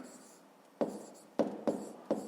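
Pen writing on paper during a fifth-grade maths exercise: a steady faint scratch, then four sharper strokes or taps spaced about half a second apart, close and quiet.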